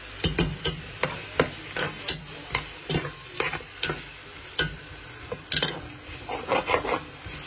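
Onions frying with salt in a pan, stirred with a utensil that scrapes and taps in a quick, uneven rhythm over a constant close sizzle.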